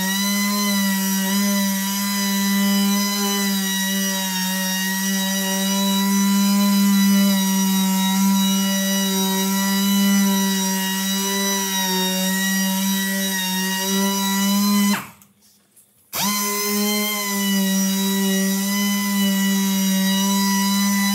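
A polisher with a 3000 grit diamond pad cuts fresh car paint, giving a loud, steady, close motor whine with a strong hum. It cuts out briefly near the end, then resumes.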